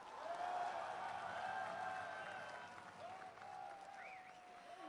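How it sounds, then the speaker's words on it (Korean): An audience applauds at the homecoming ceremony for former President Roh Moo-hyun in Bongha Village: steady, fairly faint, distant clapping, with sustained musical tones carrying over it. "선진규 위원장님께 다시 한 번 더 큰 박수 부탁드리겠습니다"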